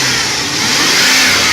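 Car engine revving hard after a catalytic converter replacement, a loud, close, sustained roar that swells slightly as it climbs, with no talking.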